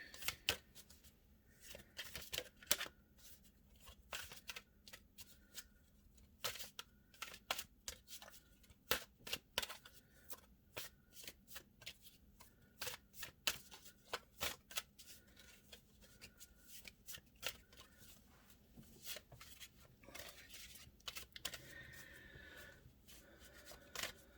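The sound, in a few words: shuffling tarot cards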